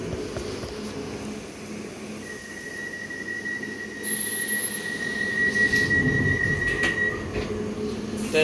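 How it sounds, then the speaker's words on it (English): A London Underground Piccadilly line train runs steadily, with continuous rumble and wheel noise, a sustained high squeal partway through and louder rolling and clatter toward the end. "This is a Piccadilly line service to Rayners Lane."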